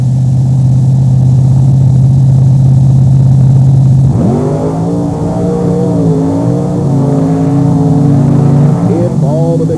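Monster trucks Bigfoot Cruiser and Gravedigger race head to head on a beach at Wildwood, New Jersey: a loud steady engine drone shifts into rising, climbing revs as they accelerate, close and powerful throughout.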